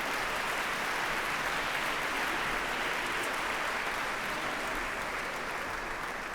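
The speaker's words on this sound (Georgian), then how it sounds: "კიდევ ერთხელ მხურვალე აპლოდისმენტები." An audience gives loud, dense, sustained applause to the Tbilisi Women's Choir at a concert, a continuous wash of clapping throughout.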